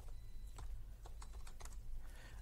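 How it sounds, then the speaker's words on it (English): Faint, quiet keystrokes on a computer keyboard while typing Python code, a scattering of irregular light clicks over a low background hum. "I need to type out Python"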